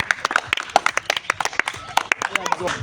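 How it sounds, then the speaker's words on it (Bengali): An audience claps for a contestant at a bat-and-ball tower-toppling challenge: rapid, uneven claps ring out continuously, mixed with voices talking over them. "তার জন্য সকালে জোরে হাততালি।"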